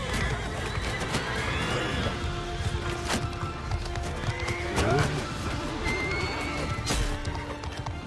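A horse neighs in the medieval battle game Mount & Blade II: Bannerlord, its whinny rising over steady combat clatter and hoofbeats, with a louder crash near the middle.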